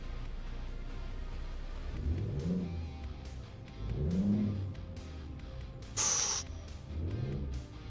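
A truck engine in Euro Truck Simulator 2 rumbles low and steady, swelling in a few slow revving surges, with a short bright hiss partway through.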